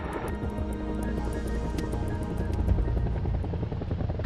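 An army attack helicopter hovers in place, its rotor blades producing a steady, loud, continuous thumping drone that holds at an even level throughout, with no voices.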